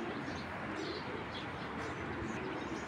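Racing pigeons coo softly in low, throaty bursts over a faint steady background, quiet and somewhat distant, with no talk.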